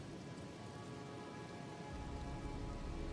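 Rain in the video game Elden Ring falls in a continuous, close wash of hissing drops, steady and unbroken throughout, with no voices.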